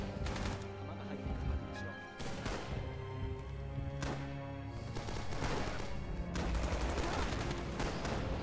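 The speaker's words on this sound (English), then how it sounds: "they just bombed me like crazy. Just exploding" Bombing in the World War II shooter Rising Storm: heavy explosions and booms land at intervals over continuous crackling gunfire, loud and close, with the blasts building toward the end.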